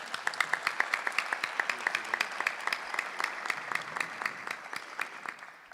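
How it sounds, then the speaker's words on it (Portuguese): A church congregation claps during Mass, steady rhythmic applause with fairly even beats from a gathered crowd, somewhat distant and moderate in level, tapering slightly at the end. "Então, vamos aplaudir nossos irmãos."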